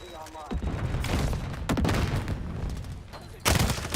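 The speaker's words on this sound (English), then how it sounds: "There's a flashbang" A flashbang grenade detonates in a video game amid overlapping gunfire bursts and thumps, with several sharp loud bangs close by over continuous battle noise.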